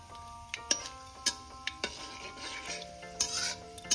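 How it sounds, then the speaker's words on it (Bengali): Quiet crackle of whole spices frying in oil, with scattered sharp ticks and spatula taps over a soft, steady sizzle. "এবার আমি 2 সেকেন্ড ফোড়নটাকে একটু ভেজে নেব।"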